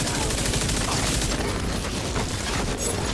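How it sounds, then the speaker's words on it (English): Rapid, dense shotgun fire in Star Citizen pounds continuously at a steady loud level, blasts blurring into a sustained roar with no gaps. "Oh boy, shotguns."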